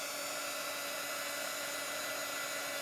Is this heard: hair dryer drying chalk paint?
yes